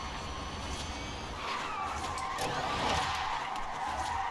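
An electric car drifts in the Forza Horizon 5 video game, its tires skidding in a rising and falling squeal over a steady road rumble at moderate loudness.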